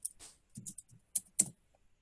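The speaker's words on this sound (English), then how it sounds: "All you have to do is type their name." A few quick, crisp keystrokes on a computer keyboard type a name into a Trello board's member search, sounding in short irregular clusters close up against a quiet room.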